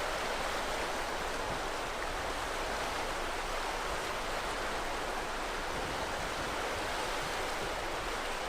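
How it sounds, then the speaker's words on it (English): Steady, full-band rushing of whitewater at Oak Springs Rapids on the Deschutes River in Oregon's high desert, a constant loud roar with no breaks and no voices. "On the right is the Oak Springs Rapids."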